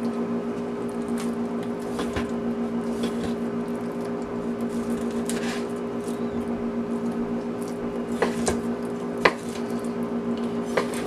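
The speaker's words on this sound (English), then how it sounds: "Fingers curled under for quick knife cutting without trying to lose one" Knife chopping food on a cutting board in a home kitchen, scattered light taps and a few sharper knocks over a steady hum, close and mostly faint, with no talk.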